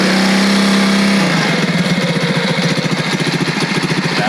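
A Honda CT90 motorcycle engine catches from a kick start, shifting from a loud steady drone into a close, rapid, throbbing idle that keeps running.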